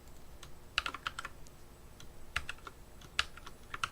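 Clacking keystrokes on a computer keyboard with a sticky, unresponsive key, heard as close, sharp taps arriving in small irregular bursts with brief pauses between them, no voices present.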